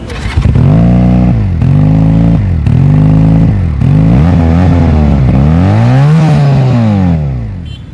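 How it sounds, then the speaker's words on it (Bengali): A Pilder V2 motorcycle with an inline two-cylinder engine and dual-barrel exhaust is revved nearby in short, loud blips that rise and fall, ending in a longer swelling rev before settling back to idle. "এর ডুয়েল ব্যারেল এক্সজস্ট চলুন হালকাভাবে এক্সজস্টের সাউন্ড শুনে আসা যাক"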